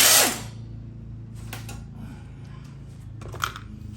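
Power drill spinning out the bolts on the pull cover of a Craftsman mower with a 4.5 Tecumseh engine, heard as a loud opening burst followed by two shorter, fainter bursts.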